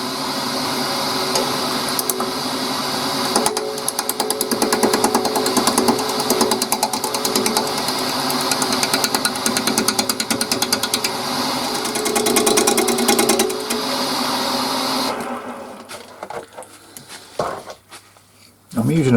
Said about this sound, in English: I'm using a bowl gouge instead of a roughing gouge